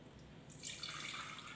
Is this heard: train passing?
no